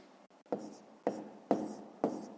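Pen or chalk writing out a math solution in repeated short strokes, four distinct scratchy bursts evenly spaced and close, with faint breathy sounds between.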